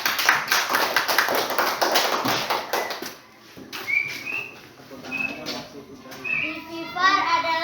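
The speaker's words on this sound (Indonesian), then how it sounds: "Tepuk tangan." Children in a primary school classroom clap in a brisk, rhythmic burst for about three seconds, then chatter and speech follow, with a second brief round of claps near the end.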